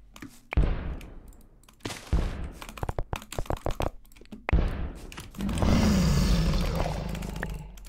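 Fireballs explode one after another in a Minecraft Fireball Fight, giving sharp cracking thumps followed by a rapid flurry of clicks and small pops, then a louder, rough rushing blast near the end.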